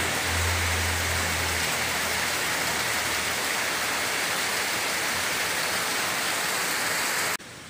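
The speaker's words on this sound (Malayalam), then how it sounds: "പുറത്ത് നല്ല മഴ പെയ്യുന്നുണ്ട്" Heavy rain pours outside in a dense, constant hiss resembling rushing water, with a brief low hum near the start and an abrupt drop in level just before the end; no one speaks.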